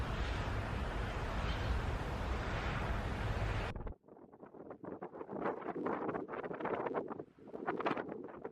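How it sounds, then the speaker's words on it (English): Heavy wind on the Scottish coast at high tide buffeting the microphone as a loud, steady roar, then giving way to gusty, uneven rumbling and flutter. "I'm not sure if you'll be able to hear us because it's quite windy"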